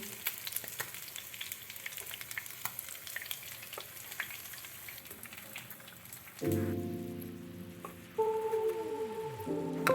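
Fish pieces in a sesame paste recipe crackle and sizzle steadily as they fry in a pan, a dense popping hiss that continues as tonal music enters over it.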